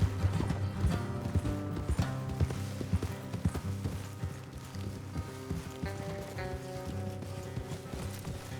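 Steady clip-clop of hooves, several horses trotting in an uneven rhythm in Red Dead Redemption 2, moderately close, with faint background ambience and no talking.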